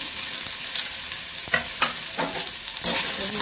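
Ginger-garlic paste with ground chilli, cumin, coriander, turmeric, salt and sugar sautés in a pan, a soft continuous sizzle broken by a few sharp spatula scrapes and stirs.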